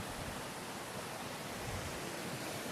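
Steady, dense rush of a waterfall, a constant hiss-like roar with no pauses, heard alone without voices.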